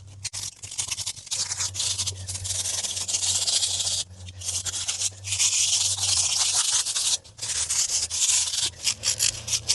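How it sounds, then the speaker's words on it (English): A caravan wheel rim is hand-sanded with 60 grit sandpaper, producing loud, close, rhythmic scratchy rubbing strokes with brief pauses between passes over a low steady hum. "So I'm using 60 grit here. Give it a nice key up for spray."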